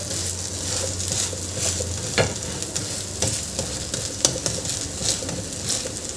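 Raw papaya thalipeeth cooking in a pan while being pressed lightly and turned to cook the second side; a continuous close sizzle with scattered scraping and tapping of a spatula against the pan.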